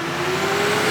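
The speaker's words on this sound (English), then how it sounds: "You hear how much I have to rev that sucker and it barely even goes?" A car engine revs hard while the car struggles to move in reverse, producing a loud, close, sustained engine roar with a steady droning tone.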